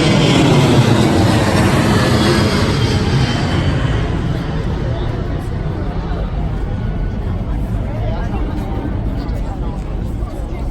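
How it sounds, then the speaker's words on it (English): A helicopter passes overhead at an outdoor political campaign event in San Diego, a loud, steady broadband rotor-and-engine roar that eases slightly after the first few seconds, with crowd chatter underneath. "It's coming by helicopter."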